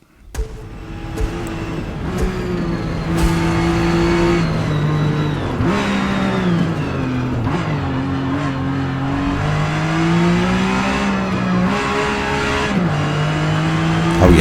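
A classic Porsche 911 racing in Forza Motorsport: a loud, close engine revs hard through repeated gear changes, its pitch rising and dropping again and again over a long continuous run, with tyre noise underneath and no talking.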